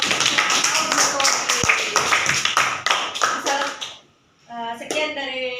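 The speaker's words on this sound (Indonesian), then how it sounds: "kita beri aplaus ya untuk kelompok" Applause from a classroom audience after a group presentation, a dense patter of many hands clapping for about four seconds before a voice starts speaking.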